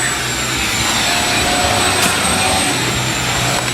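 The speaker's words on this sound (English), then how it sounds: "Wife's vacuuming out her car, so hopefully you guys can hear me fine." A vacuum cleaner runs inside a car as its interior is cleaned, a steady, loud drone with a thin high whine that holds unbroken from start to finish at close range, with no talking.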